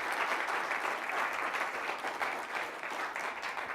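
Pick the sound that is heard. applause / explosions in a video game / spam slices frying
applause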